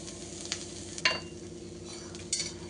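Onion frying in oil for a potato and brinjal bhaji, a steady soft sizzle close by with a few clinks of a spoon stirring against the pan.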